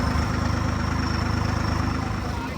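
A pickup truck engine idles steadily nearby with a low, even rumble that holds throughout.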